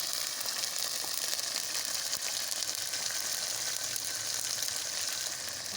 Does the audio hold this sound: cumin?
yes